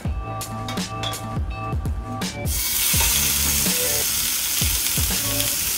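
Thin-sliced, well-marbled bulgogi-marinated beef hits sesame oil in a very hot pan and erupts into loud, steady sizzling, with clinking utensil taps and stirring before and through it.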